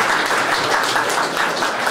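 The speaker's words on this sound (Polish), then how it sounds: "prosiłbym o brawa dla pana Grzegorza" An audience in a hall in Sandomierz applauds, with dense, steady clapping from many hands that fills the whole stretch without a break and without any voices.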